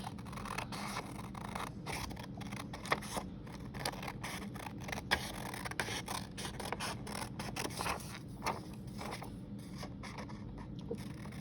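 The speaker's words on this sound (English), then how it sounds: "Little scissors are hard to use with my big hands." Small scissors snip repeatedly through paper, a steady run of close, crisp cuts with brief pauses and no talking.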